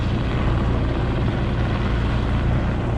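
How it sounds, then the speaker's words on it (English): A black helicopter flies over New York City, heard as a steady loud rotor and engine roar filling the air near a river, continuous and unbroken for the whole moment. "A black helicopter."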